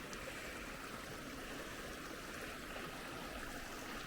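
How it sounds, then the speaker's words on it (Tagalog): Steady, continuous rush of a mountain stream flowing toward Dovestone Reservoir in the UK, a broad even wash of water noise with no pauses and no voices. "Yung tubig na galing bundok papuntang reservoir."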